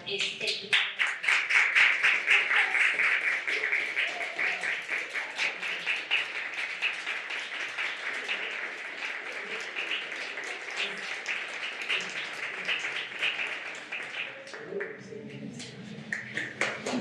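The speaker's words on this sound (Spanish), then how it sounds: "Solamente pido un aplauso, una ovación muy sentida" Audience applause at a university art and biotechnology event, a long burst of close, crisp hand clapping that starts strong, settles into steady clapping, and thins out toward the end.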